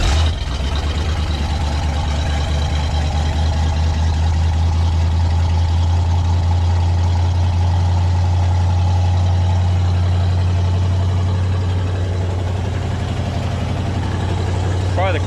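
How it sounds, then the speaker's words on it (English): A Buick V8 engine with turbo mufflers idles nearby with a deep, steady exhaust burble, a low throb holding evenly throughout the clip. "Buick motors have a very, very distinctive exhaust tone."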